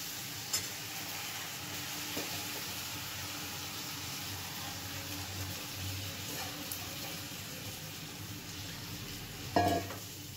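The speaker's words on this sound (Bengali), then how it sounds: "এটাকে একটুখানি ফ্রাই করলে, মানে একটু ভাজা ভাজা করে নেবো চালটাকে" Gobindobhog rice frying in a pan with cinnamon gives a steady, close sizzle that runs throughout, with a few light clinks of stirring near the end.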